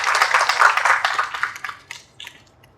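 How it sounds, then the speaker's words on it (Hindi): An audience claps to welcome guests at a club function in Lucknow, a dense burst of many hands that thins out and fades into scattered claps over a few seconds, with no talk over it. "इनका भी तालियां बजा के स्वागत करिए।"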